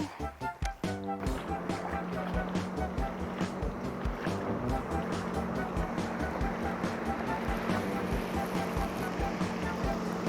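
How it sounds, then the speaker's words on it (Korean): Continuous rushing, churning water with a steady low drone, like waves slapping against a moving boat, preceded by a few sharp thumps, during bass fishing in Gapyeong. "파도 온다"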